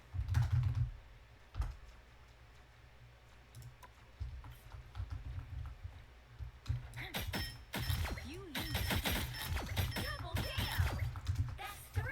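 Rapid computer keyboard typing, bursts of sharp clicky keystrokes during a video game, heard close, with game sounds and brief talk mixed in.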